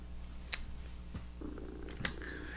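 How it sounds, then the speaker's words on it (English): A house cat purrs right against the microphone, a steady close low rumble with a couple of brief rustling bumps as it presses in; no one speaks. "excuse me, Mr. Cat, don't block the microphone"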